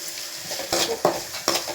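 Onions sautéing with a pinch of salt in a pan for a Tamil-style green gram curry, a soft steady sizzle broken by a few louder scraping stir strokes, close up with no talking.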